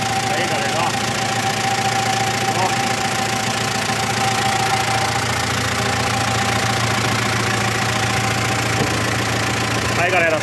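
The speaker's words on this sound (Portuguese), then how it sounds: "esse motor tem um barulho de vidro, né, cara? Olha, barulho macio" A Ford F-4000 truck engine idles smoothly and steadily, a close, even low hum with a constant mechanical drone throughout, and brief voices surface faintly a few times.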